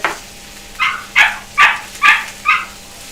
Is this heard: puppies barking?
yes